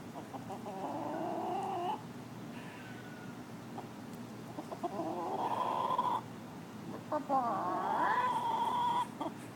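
A striped hen clucks and fusses in fretful, warbling bursts across the clip, close and fairly clear, with pauses between calls.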